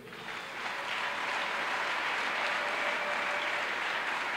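A church congregation bursts into sustained applause, a dense steady wash of clapping that swells in over the first second and holds, heard from within the crowd with no talk.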